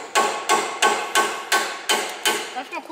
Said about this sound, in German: Und jetzt mit dem Hammer ganz leicht reinschlagen.